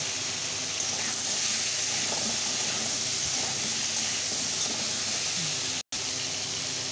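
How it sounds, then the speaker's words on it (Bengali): Potatoes, onions and eggs fry in hot oil in a kadai for dhaba-style aloo dim pyaza, a loud, steady broadband sizzle that holds throughout, cut by a brief silent dropout near the end. "আগে একটু ভেজে নেব।"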